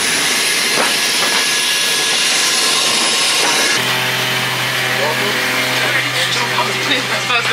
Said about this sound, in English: Guess who's in the aircraft finally? We finally made it.